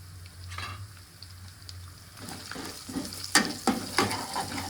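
Turmeric added to browned onion and ginger-garlic paste in a hot pan starts to sizzle and crackle, gradually growing louder with light stirring taps and scrapes, no speech.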